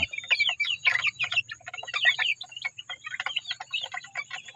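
Chicks and chickens on a game farm at evening feeding, giving a busy run of high peeping chirps and clucks at close range, with faint ticking pecks beneath and no talking.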